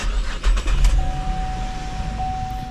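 A 2015 Chevy Camaro started with a programmed switchblade key cranks briefly and settles into a smooth idle, with a steady tone holding close by and no talking over it.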